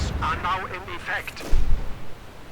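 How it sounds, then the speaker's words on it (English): A Pak 43 anti-tank gun fires in Company of Heroes 2, a heavy booming shot landing midway through the battle noise, with a commentator's voice audible around it. "Pak 43 sends it to hell."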